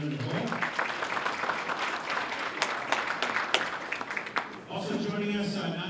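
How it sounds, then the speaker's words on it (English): Audience at a New Hampshire legislative panel applauding Representative Hoell, a steady crackle of clapping with sharper individual claps, and a voice talking over it near the end. "Big round of applause for Representative Hoell."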